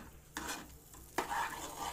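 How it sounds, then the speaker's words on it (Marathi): Ground spice paste for a surmai fish curry sizzling in hot oil, a low crackle broken by two sharp stirring scrapes of a spoon against the pan, close and without speech. "चरचरला रे चरचरला"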